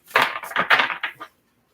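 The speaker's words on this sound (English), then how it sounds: "Last shuffle." A stiff tarot card deck is shuffled close by: a quick run of crisp, papery riffling bursts lasting about a second, then silence.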